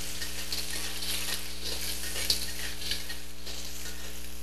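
Clams stir-fry in a hot pan, a steady loud sizzle throughout with faint scraping and clinks of the spatula as they are tossed, up close and with no talking.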